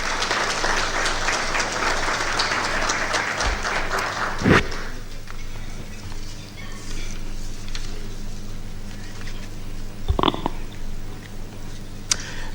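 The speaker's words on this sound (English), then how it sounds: "I want to ask you to give him a round of applause" Guests at a KBC sporting activities unveiling applaud as Samuel Maina walks up, moderate clapping that fades after a few seconds, followed by quieter room noise with a couple of sharp knocks.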